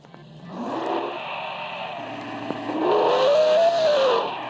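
A tuned Chevrolet Quadra engine roars during a street race, revving and climbing in pitch as it accelerates, loud and sustained with a rising whine toward the end.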